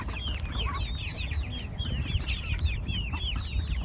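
Several young meat chickens in a temporary holding pen cluck and chatter continuously nearby, overlapping calls in a busy, steady flock over a low background rumble.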